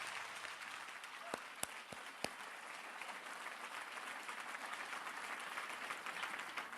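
Steady, dense audience applause at a T. Harv Eker seminar, continuous clapping filling the room for several seconds with a few sharper individual claps standing out early on.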